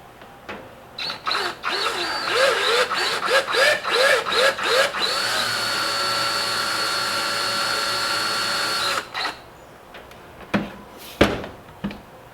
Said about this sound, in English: I am going to see if I can just kind of drill right into that corner